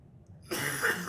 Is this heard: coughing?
yes